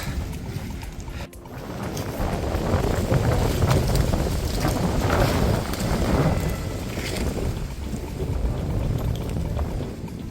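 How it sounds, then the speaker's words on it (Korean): Strong wind gusting across a mountain ridge, a loud, steady roar of buffeting noise against the microphone that swells and eases over several seconds with no voices. "여전히 바람은 거세게 불고 있습니다."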